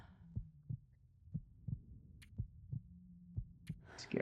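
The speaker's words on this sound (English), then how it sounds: "To get rid of the heartbeats, which is a bit creepy." The heartbeat sound effect from the video game The Long Dark thumps in a steady, low double-pulse rhythm, about ten faint beats over a quiet hum, with a few brief higher game noises in between.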